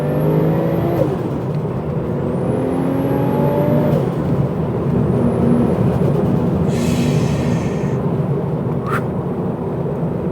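RWB wide-body Porsche 964 911 Turbo driving hard, a continuous loud engine and road roar with rising whine as it accelerates and shifts, heard from inside the car.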